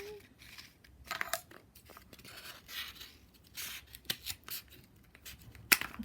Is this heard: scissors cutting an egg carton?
yes